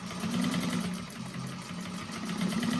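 A sewing machine runs steadily, back stitching along a quarter-inch seam on a fabric bag, a continuous close mechanical whir with a slight pulse and no talking.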